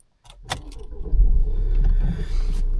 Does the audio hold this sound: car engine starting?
yes